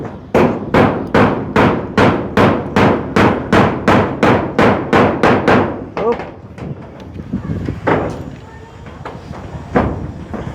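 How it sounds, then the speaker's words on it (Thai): Nails are driven into corrugated zinc roof sheets with about twenty loud, evenly spaced hammer blows, each ringing metallically, then scattered knocks and handling noise follow. "ตอกสังกะสีก่อนแป๊บหนึ่งเนาะพี่น้อง"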